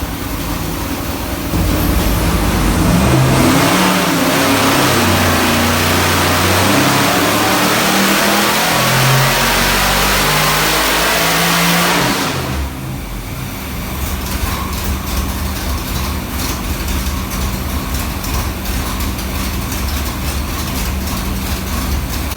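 A 1969 Camaro with a 427ci LS engine revs hard on a dyno: a loud, close, sustained high-rev roar that rises and falls. It then drops into a rougher, steady lower drone.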